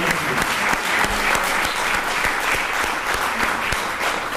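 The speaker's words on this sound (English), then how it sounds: "I would like to have a round of applause for the IFA Young Professionals Group." Sustained applause from an audience at a fall forum event, dense steady clapping filling the room at a fairly loud, even level with no speech over it.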